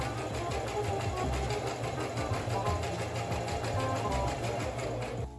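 A sewing machine stitches black tulle fabric in a fast, even mechanical chatter that runs steadily throughout, close and moderately quiet with a low motor hum underneath.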